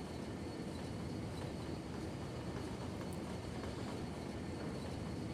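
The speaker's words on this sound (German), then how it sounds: "Da fährt der nächste Zug, ist aber schön." Train rolling past in the Cities Skylines city-building game, a steady broadband rumble and rush that holds at an even level throughout, with no talk over it.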